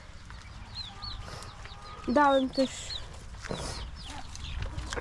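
Chickens and ducks on a farm cluck and call around a feeder, with one loud, sharp squawk in the middle over softer background clucking, while someone speaks briefly nearby.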